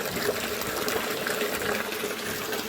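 Water pours steadily for piglets in a pig shelter during hot weather, a continuous close gushing splash like a running tap, loud and unbroken throughout.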